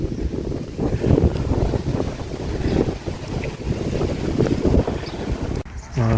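Wind buffets the microphone on the beach at Saint-Nazaire, a loud gusting rush with a low rumble of surf beneath, cutting off abruptly near the end.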